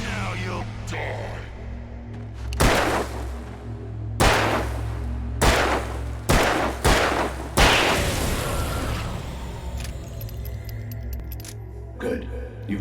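Handgun shots ring out in Alan Wake, a series of about seven sharp, loud cracks spaced a second or so apart over a low ambient hum, with faint crackle afterward.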